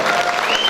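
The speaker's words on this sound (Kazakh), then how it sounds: "Шапалақ қайда," Wedding guests at a Kazakh celebration clap together in a short, steady burst of crowd applause, with a faint tonal whistle or voice line riding over it.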